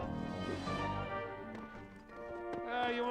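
Hooves clopping from a galloping horse in the Toy Story 3 video game, rhythmic beats under game music and a voice speaking over it.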